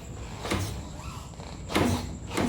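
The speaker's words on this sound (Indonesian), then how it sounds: "kadang suka bunyinya itu kayak besi ketemu besi gitu" On a Lexi S 125 scooter riding over rough road, the suspension bottoms out with short metal-on-metal knocks, about three clunks over a steady riding rumble.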